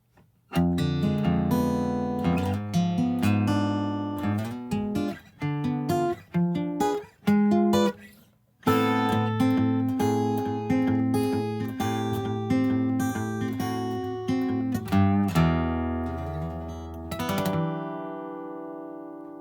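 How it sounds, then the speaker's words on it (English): A long acoustic guitar passage of picked notes and bass lines, briefly pausing midway, closes on a final chord that slowly fades away. "So all told, the ending sounds like this."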